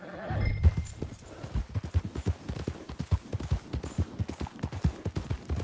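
Steady, rhythmic horse hoofbeats in the video game Red Dead Redemption II clip-clop at a trot, close and clear, with a brief low voice and a snort near the start.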